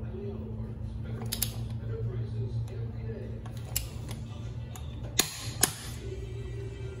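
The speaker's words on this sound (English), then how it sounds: "you'll hear a click when this torque wrench reaches 90 foot-pounds" A torque wrench set to 90 foot-pounds tightens lug nuts on an aluminum wheel, giving a few soft ratchet ticks and then two sharp, close clicks over a low, steady hum.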